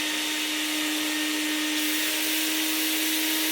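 A restored 1990 Vax 121 3-in-1 vacuum cleaner runs steadily and loudly up close, a constant whine with a high steady tone and no pauses.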